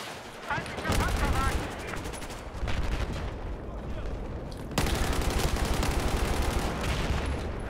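An M416 assault rifle fires in Battlefield 4 in loud, rapid automatic bursts. The strings of shots are evenly spaced, one burst comes after a short break, and other battlefield noise sits underneath.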